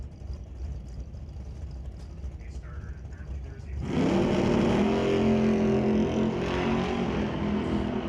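A drag racing car launches down the strip at Mission Raceway Park, its engine suddenly roaring up after about four seconds of steady crowd and track rumble, then holding a loud, sustained high-revving drone.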